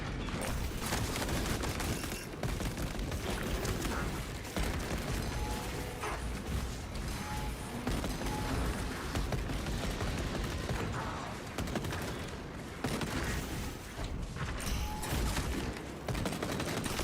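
Sustained heavy gunfire and rolling blasts from a gun strike ability in Space Marine 2, a dense, continuous barrage of rapid shots and booms held at loud level throughout, with no pauses.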